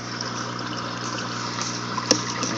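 Water trickling steadily through a Tom's AW20 Aqua Lifter pump feeding a PVC aquarium overflow, heard as a constant close hiss with a faint pump hum and one brief drip or click near the end.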